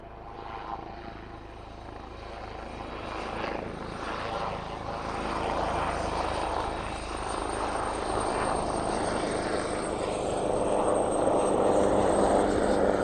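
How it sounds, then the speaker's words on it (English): A JCB helicopter arriving at East Midlands Airport: a steady, rumbling rotor and engine drone that slowly grows louder and fuller over the whole stretch, with no voices. "So the JCB helicopter is here as well"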